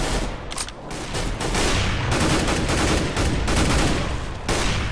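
Rapid automatic gunfire in the tactical shooter CS:GO, sprayed through a wall at an enemy, a dense loud burst of overlapping shots that runs almost continuously with only brief gaps.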